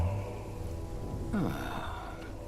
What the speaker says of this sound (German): Aber, ach, wo es so regnet.